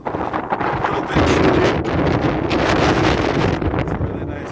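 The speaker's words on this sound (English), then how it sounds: "It's a little windy right now" Strong wind in Death Valley buffets the microphone in a continuous, loud rumbling roar with gusty swells, close and unbroken for the whole stretch.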